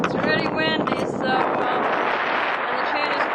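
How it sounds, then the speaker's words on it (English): Strong wind buffets a sailboat on an Atlantic crossing, roaring steadily across the microphone while a person talks over it near the start. "It's really windy"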